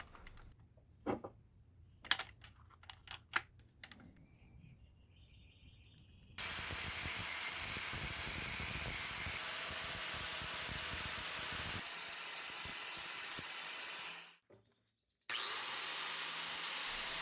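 An angle grinder works a repaired cracked axe head after light tapping and handling noises, then runs as a loud steady abrasive whine for several seconds, stops briefly and starts again.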